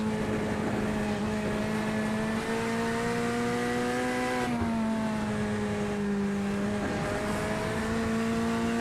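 GT3 race car engines in iRacing, a flat-plane-crank V8 and a small twin-turbo V6, drone at high revs, pitch dipping and climbing slightly as the car shifts and carries on, loud and close throughout.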